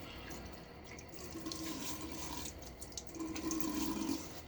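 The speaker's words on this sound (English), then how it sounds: "Now let me throw a little bit of water on my face." Water runs and splashes at a bathroom sink as someone scoops it onto the face before a wet shave, a soft, close trickle with a couple of brief splashing surges.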